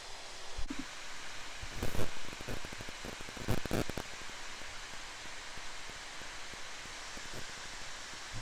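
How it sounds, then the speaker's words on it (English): Rain falls along a South Carolina backroad, a broad steady hiss with soft rustling and a few louder bursts of patter near the start. "as the rain is falling from the sky now"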